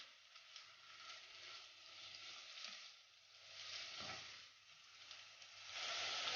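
Onions sautéing in a pan for a vegan tomato and chickpea soup, giving a steady, soft sizzle and hiss that swells and dips, with no talking.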